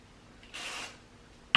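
Hair spray hisses from an aerosol can onto twisted hair for beach waves, one steady burst of about a third of a second, close and fairly loud in a quiet room, followed by a sharp click.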